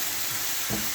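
Okra (bhindi) and potato masala sizzle steadily in a pan. A brief scrape of stirring rises over the constant close frying noise.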